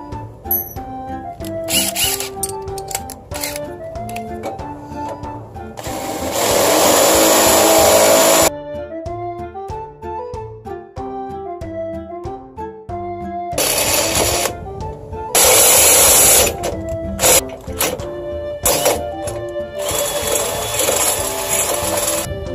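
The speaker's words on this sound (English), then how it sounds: "take your 1/2-inch bit and you are going to make a hole completely through" A power drill with a 1/2-inch bit bores through a steel jack leg in loud, close bursts of grinding whine, stopping and restarting several times.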